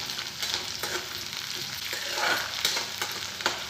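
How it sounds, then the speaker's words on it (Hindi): Chopped carrots and green peas fry in a pan for Indian rava (sooji) upma, a busy crackling sizzle with occasional scraping stirs, close up and continuous without talk. "कटे हुए गाजर, हरे मटर। क्रिस्पी होने तक हम इन्हें फ्राई करेंगे।"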